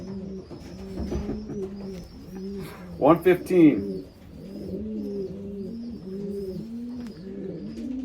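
A racing pigeon hen coos steadily in soft, repeated rolling phrases close by, while a person talks over the calls for a moment partway through.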